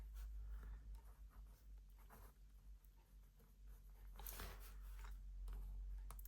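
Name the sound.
writing with a Helix Oxford metallic gel pen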